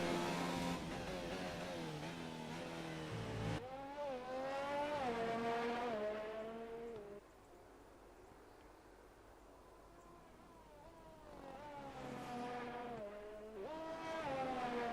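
A race car pulls away into the distance, its engine rising in pitch through several smooth upshifts, then fading to a faint whine before another engine sweeps back in near the end.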